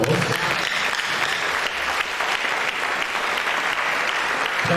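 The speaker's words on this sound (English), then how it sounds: "I think this lecture deserves another round of applause from us." Audience at a university alumni reunion applauds after a lecture, a continuous moderate round of clapping from a seated crowd, with no talk over it.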